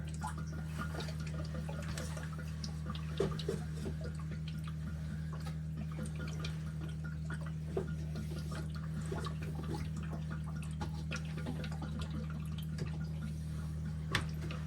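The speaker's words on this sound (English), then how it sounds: "It is still dripping water out of here." Steady water dripping and trickling from a protein skimmer into an aquarium tank over a constant low electrical hum, with occasional louder drops; no voices.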